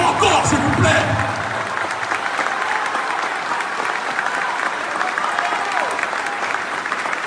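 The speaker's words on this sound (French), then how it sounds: "je vous demande de vous applaudir avec la plus grande puissance" Conference audience applauding loudly and steadily, a dense wash of clapping from a large crowd that holds for several seconds after a brief voice at the start.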